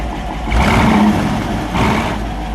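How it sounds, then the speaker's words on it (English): A 1954 Ford Crestline Victoria with a 292 V8 rumbles through its exhaust, swelling in two low, throaty revs from a steady idle, heard close and alone. "Oh yeah, here's our exhaust."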